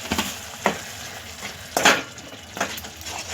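Onion-garlic masala with spice powder sautéing in oil, a soft sizzle under a few distinct scrapes and knocks of a spoon stirring in the pan.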